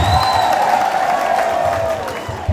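Audience at a Kenya National Drama & Film Festival workshop ululating for Lili, a sustained high trilling cry from the crowd with cheering, fairly loud and continuous, a brief voice at the end.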